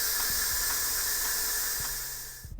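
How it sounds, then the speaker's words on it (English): An Instant Pot vents steam in a loud, continuous hiss close up, with a few low knocks underneath, until the hiss cuts off near the end. "what we got to do is let out the steam"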